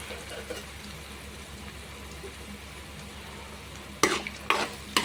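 A sweet of bottle gourd fries quietly in oil with a soft, steady sizzle, low and faint. Near the end come three or four louder scraping stirs.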